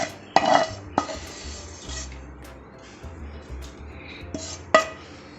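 A spoon clinks and scrapes against a cooking pot as roasted ground coconut is stirred into cooked jackfruit for a jackfruit biryani, with a few sharp taps and soft stirring between them and no talking.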